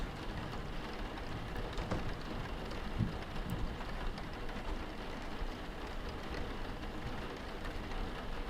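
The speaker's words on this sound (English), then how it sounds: "Also, I really like the rain sound effect." Steady rain falling in the Roblox game Break In, a dense continuous hiss of drops with faint low rumble, even and immersive throughout, with no voices.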